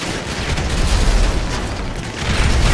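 Grenade blast setting a car ablaze in GTA 5, heard as a dense, rumbling roar of explosion and fire that swells, dips briefly and surges again, loud and close.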